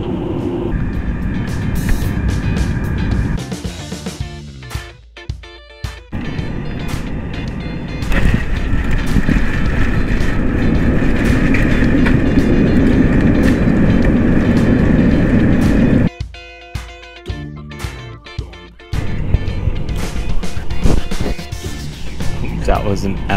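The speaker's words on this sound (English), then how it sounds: "That was an absolute brutal landing." An Air India Express Boeing 737 makes a hard landing at Singapore Changi, heard from the cabin as a loud, steady engine and airframe roar. The roar surges and then drops off abruptly, with people talking over it.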